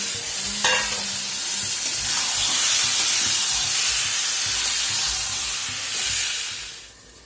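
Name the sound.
marinated meat added to sizzling spice masala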